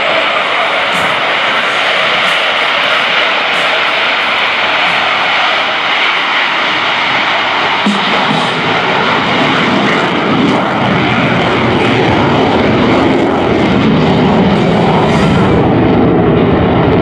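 A loud, roaring F/A-18E Super Hornet fighter jet engine surges continuously at close range during an air show demonstration, a dense broadband rumble that swells slightly toward the end.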